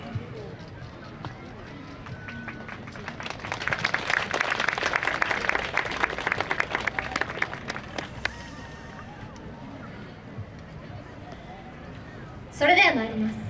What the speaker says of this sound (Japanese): お手拍子のほどよろしくお願いいたします。